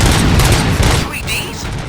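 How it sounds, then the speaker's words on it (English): Gunfire in RoboCop: Rogue City, a dense, loud burst of shots filling the first second, then thinning into a quieter scene with faint electronic tones. "Gunshots? What's going on?"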